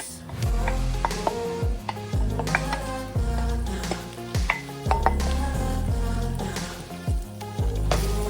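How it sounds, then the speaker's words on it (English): A spoon stirs ground turkey spaghetti sauce with vegetables in a hot pan, giving repeated scraping and clanking strokes in an uneven rhythm over a soft sizzle, close and fairly loud. "Give it a nice stir."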